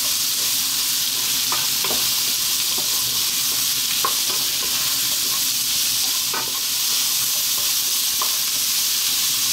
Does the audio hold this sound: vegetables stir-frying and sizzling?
yes